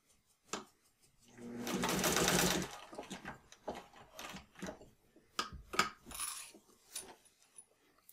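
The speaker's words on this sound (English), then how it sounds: "So I'm going to lower the presser foot. And now I'm going to come straight across." Sewing machine stitching a martingale collar in one clear burst of about two seconds, surrounded by small clicks and taps of handling and quiet, close-up stretches.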